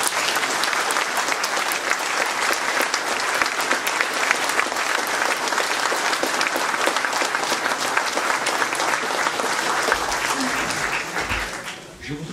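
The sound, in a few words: audience applause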